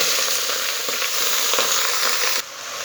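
Malabar spinach dropped into a hot pan for a lentil dish sizzles loudly and steadily, a dense frying hiss with brief stir bursts, easing slightly near the end.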